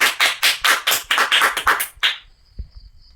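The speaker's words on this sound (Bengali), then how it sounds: "সবাই হাততালি দাও" Schoolchildren clapping their hands together in a quick, loud, fairly even burst of about a dozen claps that stops abruptly, followed by a brief quiet tap.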